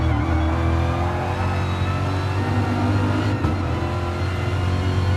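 A racing car engine in the Gran Turismo video game, on an out lap at Dragon Trail Seaside. The car drives slowly to warm its tyres, giving a steady, droning hum that stays even, with a brief dip partway through.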